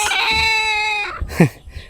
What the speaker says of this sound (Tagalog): May manok pala dito mga gusto na nangingitlog.